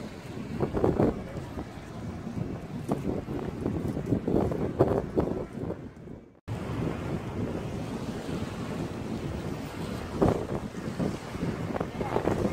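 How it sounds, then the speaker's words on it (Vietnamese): Strong waves slap against a moving boat at sea near offshore wind turbines in Bạc Liêu, with heavy wind buffeting the microphone, a steady loud roar broken by one brief cutout, and no speech. "Sóng đánh rất mạnh luôn các bạn thấy không?"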